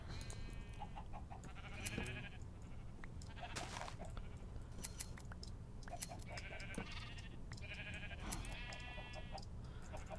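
Several short, nasal sheep bleats from the video game Minecraft repeat at intervals over a quiet hum, with scattered clicks and taps between them; faint and somewhat distant.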